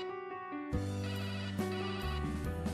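A telephone rings with an incoming call, a steady tonal electronic ringtone repeating in bursts at moderate, fairly quiet level with no talk over it.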